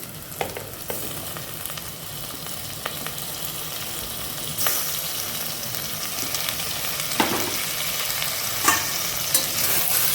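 Onions and mint frying in a pan for mushroom biryani, a close, continuous sizzle punctuated by occasional scraping stirs, with no talk.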